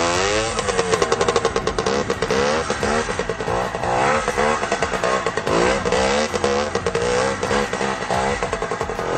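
A Yamaha 80 DTMX motorcycle engine revving hard during a wheelie, with repeated rising and falling throttle blips in a continuous buzzing two-stroke whine, loud and close.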